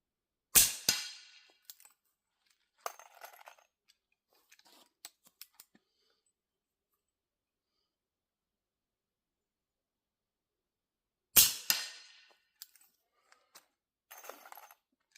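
A Thompson Contender pistol chambered for .357 Magnum and .38 Special fires two sharp, distant-sounding shots several seconds apart, each followed by brief metallic clicks and handling noises, with quiet gaps between.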